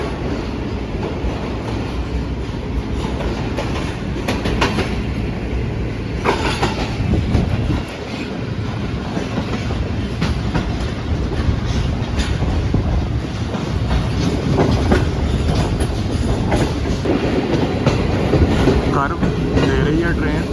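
The Pakistan Railway Shalimar Express, running from Faisalabad to Lahore, rumbles along the tracks with a continuous loud roar and rhythmic wheel clatter, heard from inside the train.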